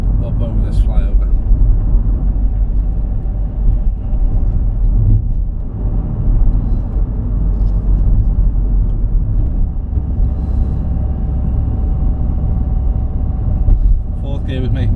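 A car driven at 30 mph up over a flyover gives a steady, loud engine and road rumble throughout, with someone talking over the drone.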